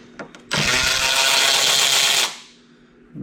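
A power tool whirs in one loud continuous burst for about two seconds, removing fuel pump bolts on a Toro zero-turn mower, preceded by a few small clicks and followed by quiet.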